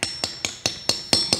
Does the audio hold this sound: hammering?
yes